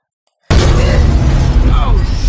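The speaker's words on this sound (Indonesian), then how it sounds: "api sudah mulai membakar mobilnya hingga mobil itu meledak" A car exploding in a film: silence, then a sudden loud blast that settles into a roaring, crackling rumble of fire and debris.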